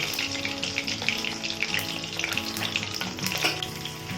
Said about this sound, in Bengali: ঠিক এইভাবে সব মাছগুলো লাল করে ভেজে নেব